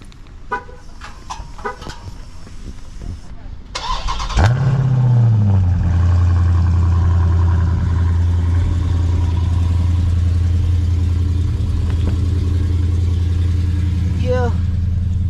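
A 2023 Dodge Charger Scat Pack cold starts after a short crank, flaring loudly then settling into a deep, steady idle rumble, with someone talking briefly beforehand.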